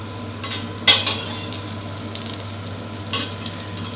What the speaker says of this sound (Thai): ข้างในนุ่มๆเลยทอดด้วยวิธีนี้ครับไฟกลางๆนะทอดไปเรื่อยๆครับ